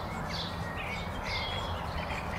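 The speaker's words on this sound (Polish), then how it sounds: "Jak słyszycie, jest godzina 20 i ptaki szykują się powoli już do snu" Birds chirping and squawking around 8 p.m. in the evening, a few calls repeating over a steady background hush, fairly faint and distant with no talk.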